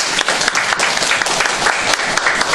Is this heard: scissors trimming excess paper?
no